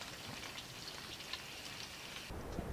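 Wind-driven snow from a heavy snowstorm patters steadily on a stove-heated camping tent, a faint continuous hiss heard alone without voices.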